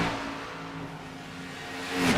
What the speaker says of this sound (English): just listening to the engines, the throttle control